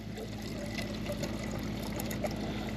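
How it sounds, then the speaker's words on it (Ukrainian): Still, non-carbonated water pours steadily into a container nearby, a continuous trickling splash with a faint low hum beneath it. "Беремо водичку, звичайно, не газовану наливаємо"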